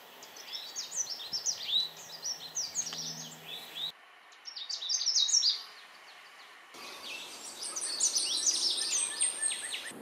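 Several rapid, high, jumbled song phrases from a Canada warbler, each starting with a sharp chip, come in bursts with brief gaps, clear and fairly near.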